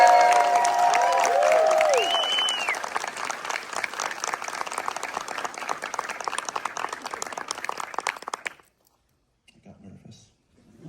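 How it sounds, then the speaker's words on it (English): Applause and cheering from a crowd honoring Paul Reubens at an anniversary celebration on a studio lot, loud dense clapping with whoops that thins out and stops, then quiet. "So let's give a big round of applause for Mr."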